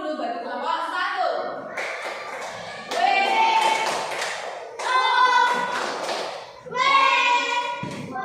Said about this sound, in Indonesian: tepuk tangan kita kasih wow dulu bagi kelompok 1